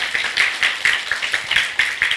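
A lecture audience gives a short round of applause for the speaker: a small group clapping in a steady, fairly quick rhythm of distinct claps, close and alone without talk.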